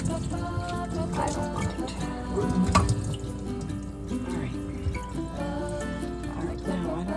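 Shower water running while a nine-week-old beagle puppy is bathed, a continuous splashing spray with drips under a voice.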